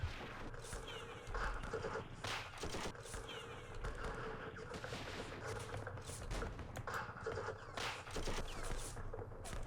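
Small-arms fire in the Vietnam War strategy game Campaign Series Vietnam, a steady rattle of shots and bursts over busy battle ambience, with faint voices mixed in.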